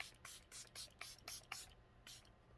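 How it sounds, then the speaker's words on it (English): Charlotte Tilbury Airbrush Flawless Setting Spray misted onto the face, a run of about eight short, soft hissing spritzes in an uneven rhythm, close by and fairly quiet, with no talking. "I'm going to use the Charlotte Tilbury Airbrush Flawless Setting Spray."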